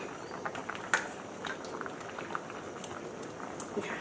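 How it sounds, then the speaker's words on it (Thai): Thai sour curry with mixed vegetables bubbling at a boil as fresh shrimp go into the pot, a quiet, steady crackle of popping bubbles with a few sharper plops and splashes. "ก็ใส่กุ้งสดลงไปเลยค่ะ"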